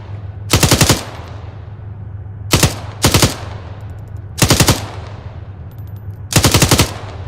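Gunfire in Arma 3 during a military simulation session: five loud, close bursts of rapid automatic fire, each about half a second, separated by brief pauses over a low background hum, with no talking.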